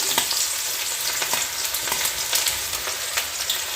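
Chopped onion frying in hot oil in a pan as the first step of a spicy street-style Maggi masala, giving a steady, loud, close sizzle with a few faint stirring scrapes and no voices.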